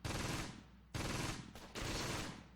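MG42 machine gun fire in the World War II tactical game Close Combat: Gateway to Caen: three loud, sustained bursts of rapid automatic fire, separated by short pauses and heard alone without talk.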